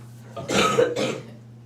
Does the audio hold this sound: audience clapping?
no